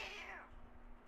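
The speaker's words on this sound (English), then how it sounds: "That's a cat." A single faint meow from a cat, falling in pitch and fading out within a second.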